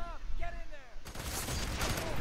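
Rifle gunfire in the shooter Fear 3 erupts suddenly after a quieter stretch with a voice, then continues as a dense, crackling burst of rapid shots.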